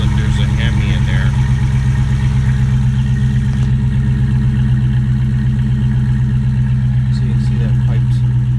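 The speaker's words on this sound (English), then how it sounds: "That gives just enough to know that there's a Hemi in there." A Hemi V8 engine with its mufflers deleted idles loudly and steadily, a deep continuous low rumble throughout, with people talking over it.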